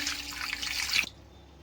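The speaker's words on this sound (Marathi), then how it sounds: "हे बटाटे आपण 10 मिनिटं पाण्यामध्ये भिजत ठेवूया" Tap water runs steadily into a vessel of potatoes set to soak and wash off soil for summer wafers, a close, continuous splashing stream that stops abruptly near the end.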